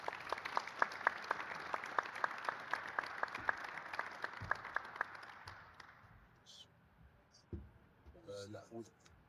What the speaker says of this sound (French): Prie, mesdames et messieurs, d'applaudir M.